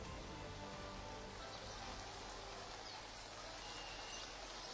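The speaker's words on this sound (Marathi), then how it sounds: "धोधो पाऊस पहाटेपासून बरसतोय" Heavy rain pours steadily at the Alandi temple of Sant Dnyaneshwar Maharaj, a dense continuous wash of drops with faint bird calls in the background and no voices.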